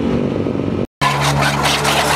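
Motorcycle engine roaring loud and close at high revs on a ride to Infanta, Quezon, a sustained drone broken by a brief cutout near the one-second mark before resuming just as strongly.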